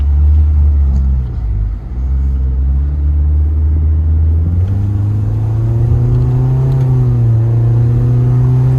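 Stage 2 MK4 VW GTI engine pulling hard under acceleration, a loud, steady low growl that dips briefly as it shifts and then climbs in pitch through the next gear, heard from inside the car.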